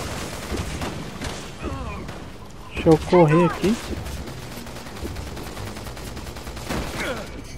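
Gunfire from the video game Resident Evil 6, a burst of loud shots in the middle of the clip, with someone talking over the game sounds before and after.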